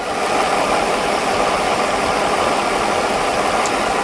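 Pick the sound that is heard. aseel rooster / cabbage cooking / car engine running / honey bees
car engine running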